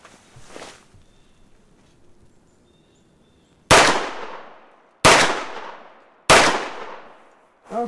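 Walther PDP F Series handgun fires during a 15-yard accuracy test: three loud, sharp shots about a second apart, each with a long decaying echo, after a quiet stretch of faint shuffling.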